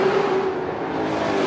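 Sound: ASA late model race cars roaring down the front stretch

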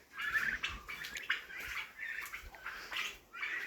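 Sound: turkey poults chirping

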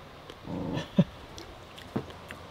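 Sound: dog

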